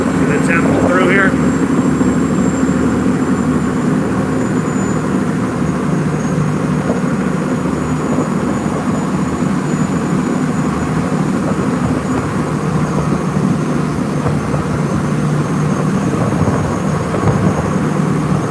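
A loud motor engine drones steadily during a ride past a temple in Bangkok, a constant low rumble with rattling and road noise that fills the whole stretch, with a brief chirp early on.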